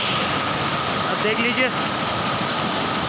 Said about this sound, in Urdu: یہ آواز دریا کی ہے